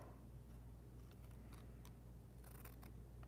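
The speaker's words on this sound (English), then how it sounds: "so I'm gonna cut it with the scissors." Quiet, crisp scissor snips cut through label material along a score mark in a few irregular clicks against a low background hum.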